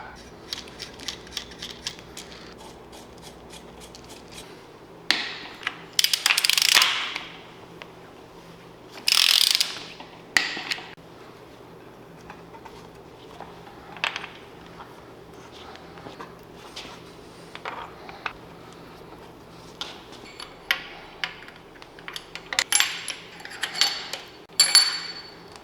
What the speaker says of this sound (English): That's why you use a torque wrench, that's why you torque things.